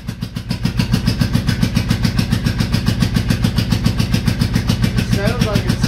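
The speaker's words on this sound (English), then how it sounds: "It sounds like it's still missing on that front cylinder." A 1984 Honda Shadow 700 motorcycle engine runs close up with a misfiring front cylinder, giving a loud, steady, rapidly pulsing rhythm throughout.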